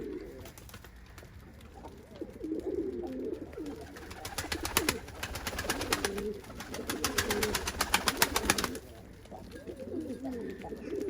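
Pigeons coo softly in a sunny spot before bathing, several low murmuring calls rising and falling, with a burst of rapid fluttering wingbeats in the middle.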